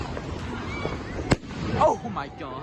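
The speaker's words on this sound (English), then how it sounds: "They're everywhere. Fireworks." Fireworks burst on bonfire night, one sharp nearby crack standing out over a background of distant popping, with excited voices talking in between.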